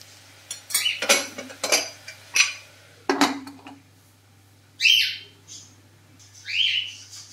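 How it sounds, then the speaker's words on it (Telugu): Metal lid set back onto a cooking pot of carrot and chana dal curry, giving a few sharp clinks and clatters in the first few seconds, followed by brief squeaky scraping sounds. "మళ్ళీ మూత పెట్టేసుకుందాం"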